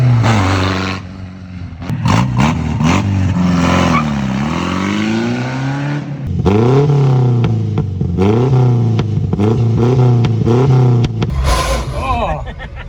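A Ford Anglia engine revs while driving, the pitch repeatedly climbing and dropping through gear changes, loud and close with a loud second gear, and people talk at times over it.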